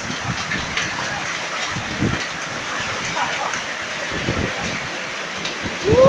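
Steady dense patter of hail drumming on a surface in Keningau, Sabah, a continuous hiss with scattered louder hits, close and loud throughout.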